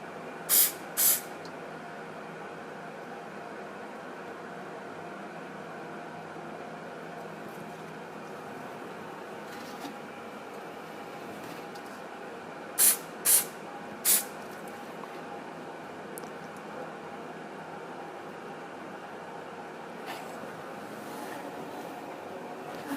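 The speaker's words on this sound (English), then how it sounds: "So anti-reflex spray goes only on the front side, maybe not even here, maybe just lower" Short bursts of anti-reflex spray hit a Heineken beer bottle during a photo shoot: two quick hisses early, then a cluster of three closer together midway, over a steady low room hum.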